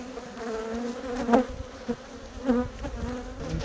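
Honey bees crawl and fly around comb frames on a Jamaican bee farm, a close buzzing drone with a few louder passes as individual bees fly near.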